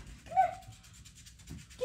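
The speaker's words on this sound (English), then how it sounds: "This is my dog." A pet dog gives a short, high whimpering whine, with a second brief whine near the end, heard fairly close over low background rumble.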